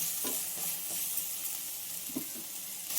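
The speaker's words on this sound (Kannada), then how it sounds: "ಈಗ ಸ್ವಲ್ಪ ಫ್ರೈ ಮಾಡ್ಕೊಳ್ಳಿ" Tomato and field beans (avarekalu) frying in a pan, a steady bright sizzle with a few soft stirring scrapes, close and continuous.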